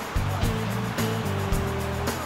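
The second waterfall on the Rynda river in Russia roars as a steady, broadband rush of falling water, close and continuous, with a voice talking faintly over it and low tonal hum underneath.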